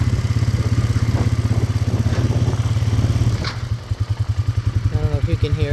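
A hay mower runs steadily in a field, its engine throbbing in a fast, even rhythm throughout, close and loud, with faint voices in the background.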